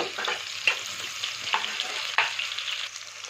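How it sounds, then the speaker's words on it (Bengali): Medium-chopped onion fries gently in oil over a low flame while being stirred, a close, even sizzle punctuated by a few distinct spatula scrapes and knocks against the pan, without any talking. "মাঝারি সাইজে কুচনো পেঁয়াজ একটাকে দিয়ে দিলাম হালকা হাতে নেড়ে চেড়ে"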